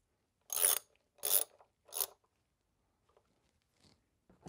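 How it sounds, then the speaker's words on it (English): Three crisp ratcheting bursts from a wrench driving a 10 millimeter bolt on a 2007 Pontiac Solstice, evenly spaced and close, followed by faint scattered clicks and handling noises in a quiet garage. "so we're going to bolt that down"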